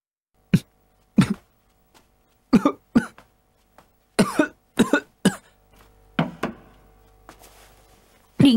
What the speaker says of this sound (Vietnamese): Điện hạ, sao điện hạ lại ho nhiều như vậy chứ?